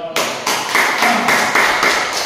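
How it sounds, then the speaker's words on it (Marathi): A group of people at a yoga session claps hands loudly, a dense, steady burst of many hands sustained throughout without pause. "यावरती चला मोठे मॅडम साठी जोरात टाळ्या वाजवा."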